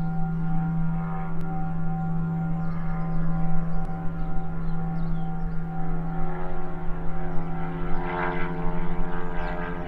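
A helicopter's steady rotor drone and engine hum fill the scene continuously, loud and near, without breaks or voices, as part of a soundscape of spinning sounds.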